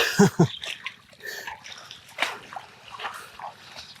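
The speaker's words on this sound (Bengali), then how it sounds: "আমার পা ডেবে যাচ্ছে" Feet wade and sink into muddy water in a wetland, giving a few sharp splashes at first, then softer sloshing and trickling steps nearby.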